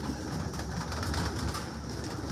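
Pigeons cooing in lofts at a breeder's setup with birds and cages for sale, a steady low murmur of coos continuing throughout at moderate distance, no voices.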